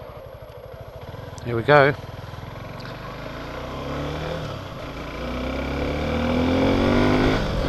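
A small adventure motorcycle engine hums and pulls away, rising gradually in pitch as it accelerates, with the rider's brief remark and a short beep-like tone early on.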